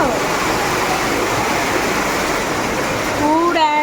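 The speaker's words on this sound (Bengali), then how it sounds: "একদম মুসলধারা বৃষ্টি" Dense, steady roar of heavy rain pouring down, broadband and constant throughout, with a brief tonal squeak or voice-like sound near the end.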